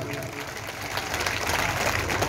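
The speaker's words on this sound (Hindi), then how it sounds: "मैं चाहता हूँ ऐसे बंदे के लिए जोरदार एक बार ताली बजे" An audience at a gathering breaking into loud applause, a dense, continuous wash of clapping that swells slightly toward the end, with voices mixed in.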